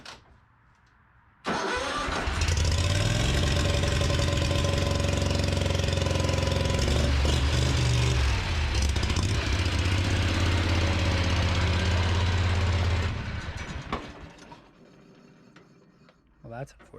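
A John Deere 345 lawn tractor engine starts after a brief quiet moment and runs loudly with a steady low rumble for about twelve seconds, then sputters and dies away. A short sound follows near the end.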